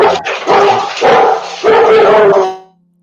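Several dogs bark loudly and repeatedly at something outside, overlapping yips and woofs in three bursts before falling quiet.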